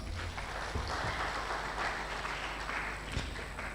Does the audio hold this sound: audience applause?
yes